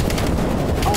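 Rapid bursts of gunfire in a video game, aimed at a VIP, dense and loud, rattling continuously through a brief moment with a voice mixed in.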